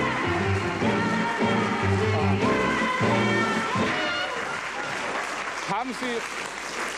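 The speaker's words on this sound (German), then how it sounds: "Applaus für unseren Assistenten." A television talk-show studio audience applauds, sustained clapping heard close and mixed with a voice speaking over it before the applause fades.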